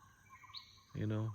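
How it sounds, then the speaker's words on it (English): A faint, high bird whistle rises briefly, then a louder, low tone cuts in for a moment against a quiet outdoor background. "you can hear the birds singing, whistling."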